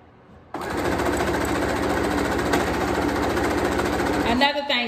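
A sewing machine stitches newborn ruffle socks, starting abruptly into a steady, fast mechanical rattle that runs for about four seconds, close and loud, before slowing to a stop.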